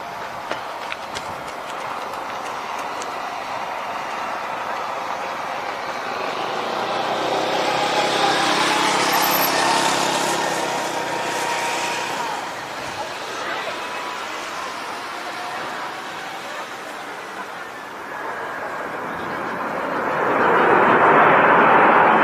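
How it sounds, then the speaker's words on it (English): An Airbus A321 touching down hard in strong winds at Skiathos Airport, heavy enough to break its landing gear. The jet's roar swells to a peak, fades, then surges loudly again at the end. "Strong winds at Skiathos Airport resulted in this Airbus A321 landing so hard the landing gear broke"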